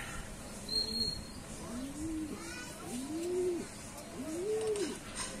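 Racing pigeons give soft, repeated rising coos, several in a row at a steady spacing, heard fairly close against a faint outdoor background, with quiet talk at times.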